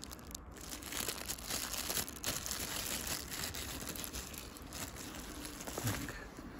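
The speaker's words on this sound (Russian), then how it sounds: "Вот, пакет упаковочный." Close crinkling and rustling of a plastic packaging bag while unboxing a Spyderco Military C36GPE knife, continuous and fairly loud throughout.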